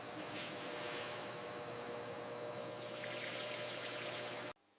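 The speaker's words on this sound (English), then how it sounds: "We begin by adding milk into the main mixing tank." Milk pouring into the main mixing tank of an ice cream factory, a continuous rushing stream with steady liquid noise and a faint machine hum, cutting off abruptly at the end.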